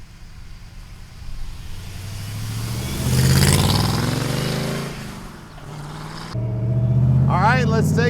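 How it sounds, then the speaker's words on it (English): 1965 Shelby Cobra replica, a Factory 5 build with a small block V8, driving: the engine rumbles and revs up through gears, swelling loud, dropping back, then climbing again, with a voice talking over it. "let's take this Cobra for a ride"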